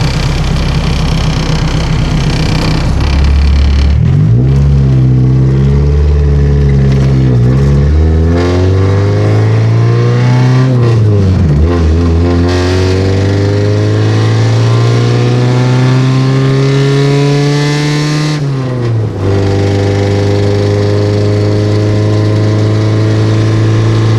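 Car engine on a quick test drive after clutch work: loud, close revving that climbs repeatedly through the gears, each rise ending in a drop at the shift, with no talking.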